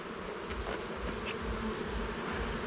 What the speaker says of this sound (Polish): A, tu jest pszczółka z pyłkiem. Na nóżkach ma.